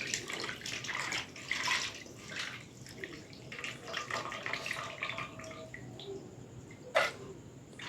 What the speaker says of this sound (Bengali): মাংসটাকেও ধুয়ে নিয়ে আলাদা বাটিতে তুলে নেব।